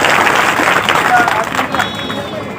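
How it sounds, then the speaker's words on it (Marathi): Audience applause welcomes new members joining Shiv Sena at a political induction event. It is a dense, continuous wash of clapping that holds steady and then eases slightly, with voices mixed in. "आपल्या सर्वांचं टाळ्या वाजवून या ठिकाणी आपण सर्वजण स्वागत करावं"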